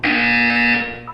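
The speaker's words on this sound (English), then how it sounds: "When you hear the buzzer, look down at the floor." A loud, steady electronic buzzer tone from the video game Portal 2 sounds for about a second, then fades off with a brief tonal blip at the end.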